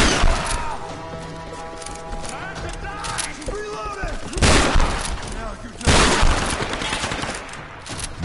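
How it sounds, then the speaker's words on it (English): Shotgun blasts ring out in the Tomb Raider video game during the Chasm Monastery level, a few loud booming shots spaced seconds apart over a busy game soundscape, with a person talking throughout. "I love the shotgun."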